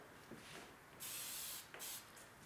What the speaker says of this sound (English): Feel free to do a little spray.